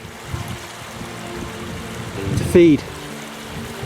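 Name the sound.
river cascading in a waterfall in Glen Nevis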